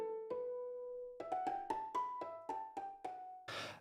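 Dry, reverb-free instrument in Cubase playing a sustained note and then a run of short, separate melodic notes, each ending cleanly with no tail, finishing on a brief noisy burst.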